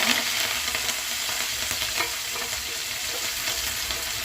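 Chopped onions frying in hot oil for wheat rava upma, a steady close sizzle with soft stirring scrapes, no voices.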